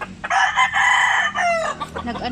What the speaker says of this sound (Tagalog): Ayan yung mga panabong niya.